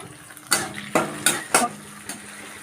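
Tomatoes tipped into a hot frying pan already holding panch phoron, dried red chillies and a bay leaf, giving several sharp clattering thuds and scrapes over a low, steady sizzle.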